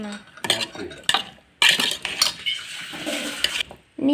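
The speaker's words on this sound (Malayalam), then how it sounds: "ഈ ചതച്ച് വെച്ചേക്കുന്ന ഉള്ളിയും മുളക് കൂടെ നമുക്ക് ഇട്ട് കൊടുത്ത് എല്ലാം നന്നായിട്ട് മിക്സ് ചെയ്യാം" Hands mixing crushed onion and chili with salt in a metal bowl, with clattering, scraping and stirring bursts, some sharp knocks, close and fairly loud, with brief pauses.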